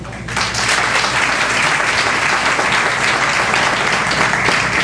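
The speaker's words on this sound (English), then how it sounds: "I think we should give a round of applause for Dan Budd of Taste Buds." Sustained audience applause fills a county fair breakfast gathering at the Dutchess County Fairgrounds, rising quickly after a brief pause and holding steady as a dense, close clatter of many hands.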